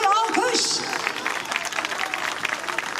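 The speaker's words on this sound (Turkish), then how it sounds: "Bir alkış kocaman." Audience applause at a concert in Akarca, with loud clapping filling the space as a crowd murmurs and a voice speaks briefly near the start.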